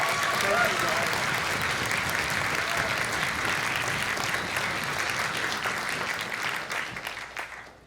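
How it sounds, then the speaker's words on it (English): Audience applause after a school strings concert piece, a dense, even burst of clapping from a large crowd that holds steady for several seconds and then tapers off at the end. "can I have another round of applause just for the effort they made on that?"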